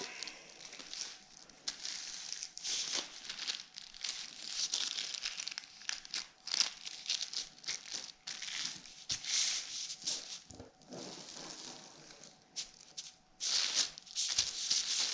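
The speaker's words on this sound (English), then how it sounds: "this mountain fold right here, we're going to fold this up" Origami paper for a Baby Ryujin model being pre-creased and folded, giving a steady run of close crinkling and rustling with frequent sharper crackles throughout, no voices.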